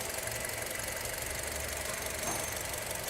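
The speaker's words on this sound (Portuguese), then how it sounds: "A única coisa que dá para ouvir aí é os eletroinjetores." A Honda City engine idles quietly and steadily, a smooth low hum with a faint rapid ticking from the fuel injectors, heard close up and alone.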